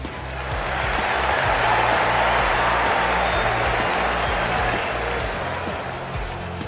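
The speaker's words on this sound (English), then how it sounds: "you hear the crowd go wild" A crowd roars and cheers without pause in a dense, loud wash of noise that holds for several seconds, with scattered clapping and low thumps under it.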